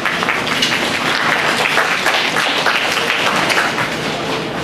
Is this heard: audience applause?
yes